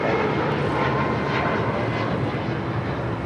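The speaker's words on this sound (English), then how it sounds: "Next departure, United Airlines Flight 279 heading to Tampa, Florida in a 737 MAX 9." A United Airlines Boeing 737 MAX 9 departs LAX on its takeoff roll, its jet engines producing a loud, continuous broadband roar that holds steady and close throughout, with no voices.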